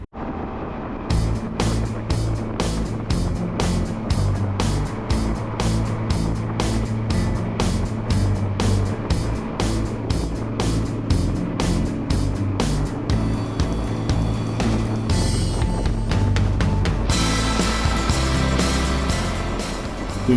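Honda Africa Twin motorcycles ride along a road through the Flinders Ranges, their engines droning loudly and steadily, with rhythmic pulsing and a rush of wind noise building near the end.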